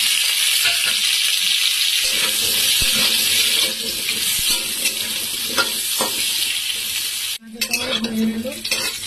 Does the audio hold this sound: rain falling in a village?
no